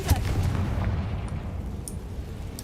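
A Confringo spell blast in the Hogwarts Legacy video game: a loud, close, booming explosion with a sharp onset, followed by a long rumbling decay.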